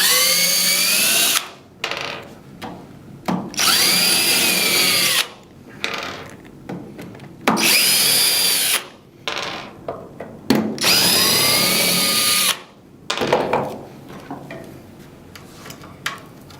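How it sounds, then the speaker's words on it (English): Power drill backing screws out of the end plates of an LED grow light fixture, in five or six loud whirring bursts with rising and falling pitch, separated by short pauses, then quieter handling at the end. "remove the rest of the screws."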